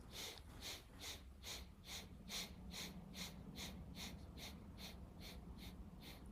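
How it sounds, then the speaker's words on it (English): A steady series of short, sharp nasal sniffs in a breathing exercise, about fifteen in quick even rhythm, close and breathy, no speech. "12 to 15 short sniffs"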